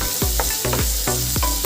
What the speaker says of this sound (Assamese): এতিয়া মই গোটেইখিনি অলপ সময়ৰ বাবে ভাজি ল'ম।